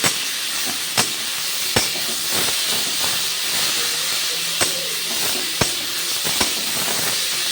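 Jute leaves fry with chopped onion in a hot pan, giving a steady, close, loud sizzling hiss with occasional sharp clicks from stirring.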